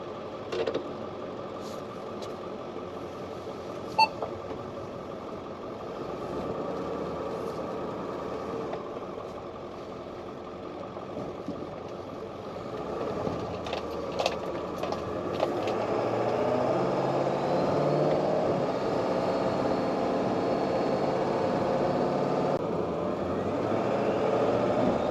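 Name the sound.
2001 Ford Excursion driving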